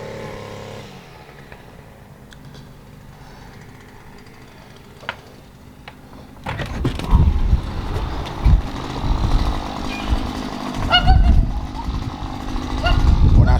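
A string trimmer is quiet and idle at first, then revs up loudly about halfway through and keeps running with a rough, uneven buzzing drone close by, rising and dipping as it works.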